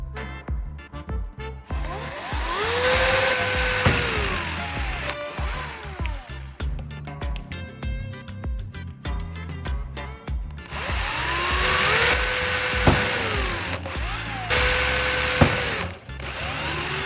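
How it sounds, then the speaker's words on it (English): A power drill bores holes in a plastic bottle cap, whining up and down in repeated bursts with short pauses between, close and fairly loud throughout. "I'll drill these 3 holes."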